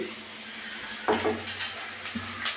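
Onions frying in a pan on the stove for a chicken curry: a low steady sizzle with a couple of clinks and scrapes of a utensil against the pan, close and moderately quiet, no talk.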